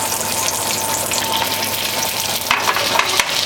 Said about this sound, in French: Et nous allons faire sauter nos gnocchis dans la poêle.